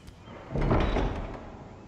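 A large, heavy door swings open in the Game of Thrones Telltale game, a swelling rumbling creak that peaks in the middle, then trails off into a quieter room tone.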